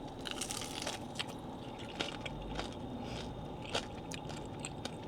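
Crispy salt and vinegar chicken wings are bitten and chewed close up, giving steady crunching and crackling with sharp bite snaps scattered throughout. No one speaks.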